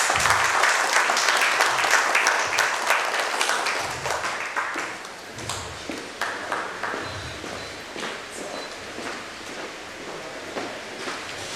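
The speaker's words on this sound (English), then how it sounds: "So please have a big round of applause." An audience at a retail talent roundtable event applauds loudly at first, then the clapping thins into scattered claps and fades over several seconds.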